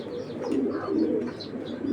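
A pair of Super Mili pigeons, a male and female of foreign racing bloodline, cooing softly and continuously up close, with a few faint chirps mixed in and no talking.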